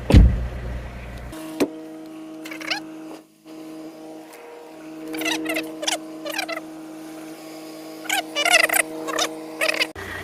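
Air conditioning blower fan in a BMW 320d E46, being ramped up during an AC cleaning, holds a steady hum inside the car while scattered squeaks and chirps come and go over it.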